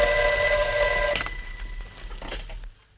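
A telephone bell rings loudly and steadily for just over a second, its metallic ringing tail then fading and cutting off, no voices over it.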